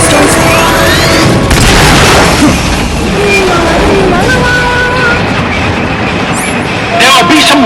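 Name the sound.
rocket boosters firing in video game Metal Gear Solid Peace Walker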